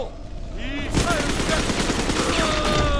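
Machine gun fire in the video game Bioshock 2: a dense, continuous burst of rapid loud shots that starts abruptly after a brief whoosh, close and dominant throughout.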